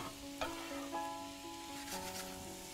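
Mushrooms tumble into a pan of garlic frying in oil, setting off a steady close sizzle with a few sharp clatters and stirring scrapes, no voices.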